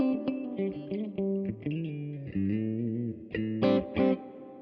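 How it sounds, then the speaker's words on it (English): A clean electric guitar plays a sequence of sustained chords and single notes, with a spacious reverb tail, at moderate volume with no voices. "We've got some reverb. And that's our clean sort of sound."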